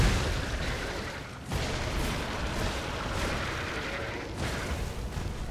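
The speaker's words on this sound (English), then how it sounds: "A little explosion." An explosion booms in the video game Lies of P, a broad rumbling blast that fills the short stretch with continuous noisy roar and a brief dip before swelling again.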